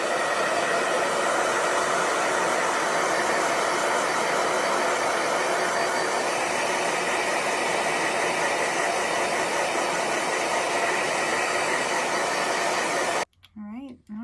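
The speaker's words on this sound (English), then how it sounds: "And then we're going to break out our hair dryer." A hair dryer blows steadily and loudly on a vintage Hot Wheels diecast car, a continuous broadband whoosh lasting almost the whole time before cutting off abruptly, with a brief voice at the very end.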